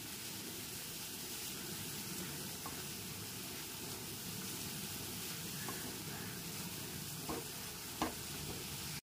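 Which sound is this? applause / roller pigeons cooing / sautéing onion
sautéing onion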